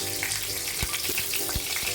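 A dried red chilli and a bay leaf fry in hot oil in a home kitchen: a steady, close crackling sizzle with a few sharper pops and a soft stirring scrape.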